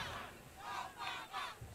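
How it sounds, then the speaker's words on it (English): An enthusiastic crowd at a political rally yells and screams in rising waves, heard faint and distant, each surge swelling and fading within a couple of seconds. "you have a very enthusiastic crowd, and they're going to be screaming no matter what you say"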